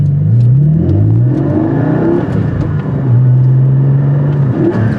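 A Porsche Cayman GT4 engine revs hard from just behind the cabin, its pitch climbing and dropping through repeated gear pulls, loud and steady with no talking.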